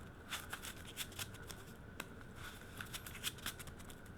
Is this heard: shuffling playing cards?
yes